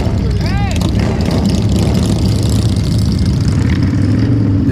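Two Harley-Davidson motorcycles pulling away on a group ride, a loud continuous engine rumble with a brief rising whine near the start, holding steady and close throughout.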